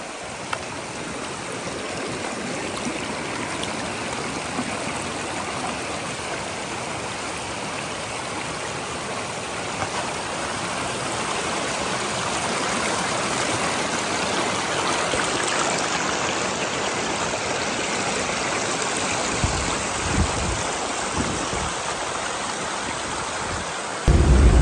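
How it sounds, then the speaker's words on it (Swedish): A waterfall pours down from a mountain in spring, a continuous dense rushing and hissing of water lasting the whole stretch, steady and fairly loud with a few low thumps near the end. "det är vattenfall här uppe från berget"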